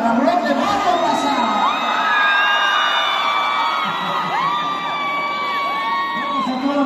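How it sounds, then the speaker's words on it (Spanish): A lively crowd at an outdoor concert in Ecatepec's Centro Cívico whoops, cheers and shouts to welcome a band, with high whistling calls and yells layered over a steady roar of voices. "vamos a recibir con un fuerte aplauso"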